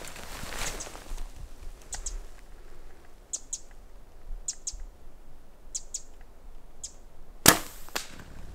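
A sharp, brief crack of an arrow tip striking near a whitetail deer, heard once amid quiet outdoor ambience with scattered high bird chirps before it.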